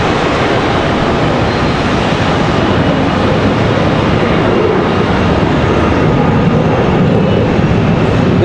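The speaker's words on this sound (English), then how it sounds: "This one here off to Indianapolis, 737-800." Southwest Airlines Boeing 737-800 jet airliner at Charlotte Douglas International Airport, a loud continuous engine roar filling the whole stretch without a break and with no voices.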